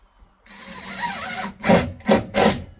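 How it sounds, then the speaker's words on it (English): A power drill drives regular deck screws into a clothesline bracket: a sustained whirring run of about a second, then three short, sharp bursts of the driver seating the screw, close and loud. "Now I'll put the screws in."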